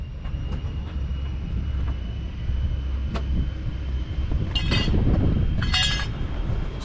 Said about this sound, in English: I'm on a private plane flying over the Caribbean